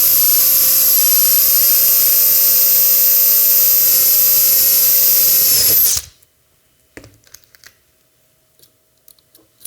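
A pneumatic rivet tool sets the last rivet on a launcher front assembly with a loud, steady high-pitched whine for about six seconds, then cuts off to near silence with a few faint clicks and handling sounds.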